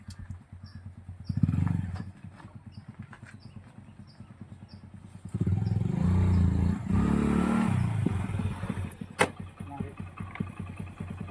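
A motorcycle idles with a steady low putter, briefly revs, then surges louder as it pulls away and fades slightly, while people talk nearby in a village.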